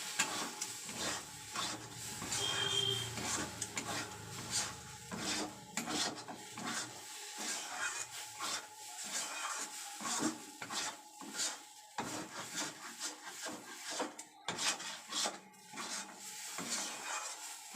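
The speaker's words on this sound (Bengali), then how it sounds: "ভাজা জিরের গুঁড়োটা দিয়ে ভালো করে নাড়াচাড়া করবো" Fried cumin powder is stirred into a pan of Bengali potato curry with repeated rasping spoon scrapes and rubbing strokes in an uneven rhythm, close by, over a faint sizzle throughout, with no talk.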